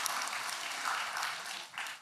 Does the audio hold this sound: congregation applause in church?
yes